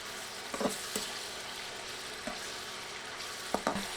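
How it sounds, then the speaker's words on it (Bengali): Shrimp fry in hot oil in a steady, close sizzle while being stirred constantly, with a few soft scrapes and clinks of the spoon against the pan and no voices. "চিংড়ি দিয়ে অনবরত নেড়ে কয়েক সেকেন্ড ভেজে নিব"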